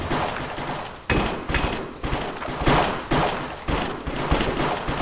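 Gunfire in a Minecraft cops-and-crimes game: a run of loud, punchy shots fired at a steady, fairly quick pace, each one sharp and close, with no talking over them.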